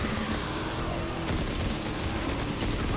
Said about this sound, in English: There's the mortars coming to get me